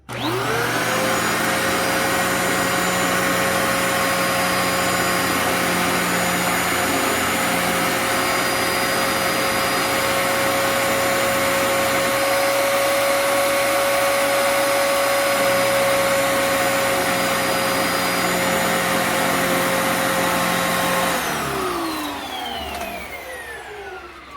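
A Dyson DC28 upright vacuum cleaner runs loud and close with a steady whining roar that holds for about twenty seconds, then winds down with a falling pitch as it switches off.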